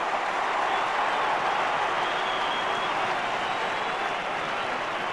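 Football crowd roaring and applauding after a goal is kicked at the 1990 SANFL Grand Final, Port Adelaide versus Glenelg; a dense, sustained wall of cheering and clapping fills the whole stretch at steady loudness.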